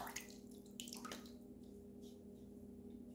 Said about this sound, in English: Let's get a rinse.